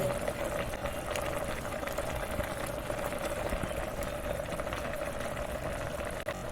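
A steady low bubbling of simmering curry, with soft pouring of cashew paste and stirring noises on top, fairly quiet and continuous, no talking.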